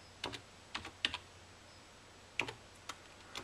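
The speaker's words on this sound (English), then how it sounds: "Now I'm going to type clean." Sparse keystrokes on a computer keyboard entering a disk-cleaning command, about eight quiet clicks in small irregular bursts, close and alone over a low background hum.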